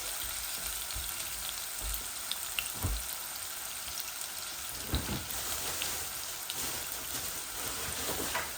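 Ginger and garlic frying with chicken in a pan for a bhuna curry, a steady soft sizzle with occasional sharper crackles and clinks throughout, with no voices.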